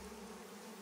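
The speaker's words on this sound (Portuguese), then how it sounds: "Ah, os mosquitos no frango, mano." Mosquitoes buzzing during a friendship finisher in the Mortal Kombat video game, a steady, dense insect drone lasting under a second with no voices.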